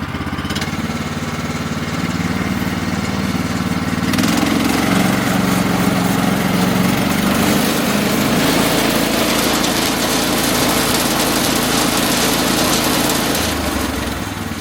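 A used sawmill's engine idles steadily throughout, a continuous loud motor drone with a slight shift in tone midway and no talking.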